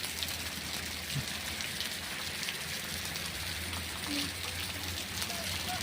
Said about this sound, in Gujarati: ડીસામાં સવારથી ઝરમર ઝરમર વરસાદ વરસી રહ્યો છે